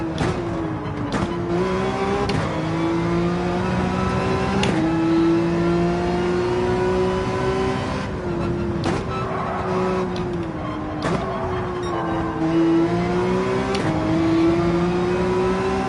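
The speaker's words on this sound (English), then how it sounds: "in the 911 there we were able to use the accelerator to get everything in the right direction" A Porsche 911 race car in Gran Turismo 7 revs loudly and steadily, its engine note climbing and dropping with repeated gear shifts and throttle changes, filling the whole stretch alone with no talk over it.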